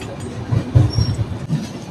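A Mumbai local train rumbles past close by, with low rhythmic wheel thumps and a faint high squeal over a steady roar.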